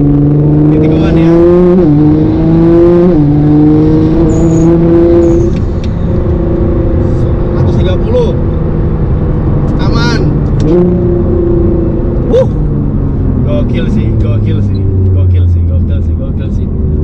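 A Nissan GT-R R35 cruising and revving on the road, loud close engine drone rising and falling in pitch through gear changes, with someone talking over it at times.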